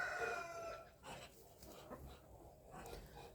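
Mixed-breed chickens, including Australorp and Cochin, cluck and call in a farmyard, with a rooster-like harmonic cry at the start, followed by scattered softer clucks nearby.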